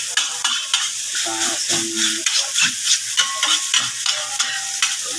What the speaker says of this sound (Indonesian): Kita masukkan nasinya setelah ini